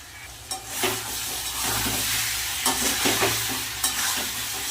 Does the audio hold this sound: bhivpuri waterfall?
no